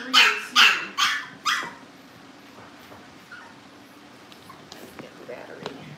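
Several Cavalier puppies give four sharp, loud barks in quick succession, then fall quiet to soft whimpers and faint rustling nearby.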